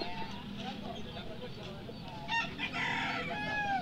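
Chickens cluck and a rooster crows nearby among a flock with chicks, the calls overlapping steadily while people talk over them.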